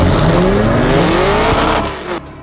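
A car drifting at a night drift show in Saudi Arabia, its engine roaring loud and close with a long tire squeal that swells and then drops away near the end.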